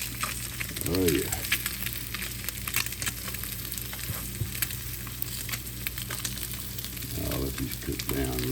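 Food fries and sizzles in a pan with a steady crackling hiss, joined by occasional scraping stir sounds and brief vocal murmurs.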